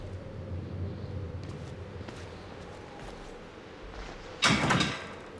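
A door opens in the horror video game Outlast: a sudden, loud scraping burst arrives near the end, after a stretch of low, rumbling ambience and faint shuffling.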